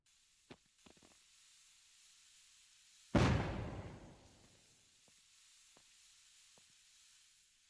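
Hand grenade explosion in the video game The Fractured Earth, a single sharp blast that bursts loudly then decays into a hissing, crackling tail, with a few faint clicks before and after.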